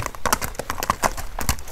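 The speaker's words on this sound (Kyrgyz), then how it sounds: "Эми бастырып коелучу, баскандарынан бир көрөлчү" A horse walks on a hard surface, its hooves making a close, uneven clip-clop of separate strikes. A few faint background noises come through, with no clear speech.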